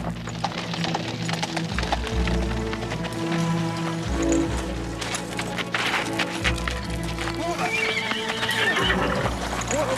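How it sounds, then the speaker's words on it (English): A horse gallops with steady clip-clop hoofbeats and neighs loudly over a busy, dense background, hoofs close and continuous throughout. "Stop that horse."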